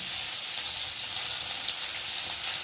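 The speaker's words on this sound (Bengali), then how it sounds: "তো দেখো পটলগুলো ভাজা ভাজা হয়ে এসেছে" Pointed gourd pieces fry in hot oil with a little turmeric, giving a steady, even sizzle and hiss that runs unbroken throughout, with no voices.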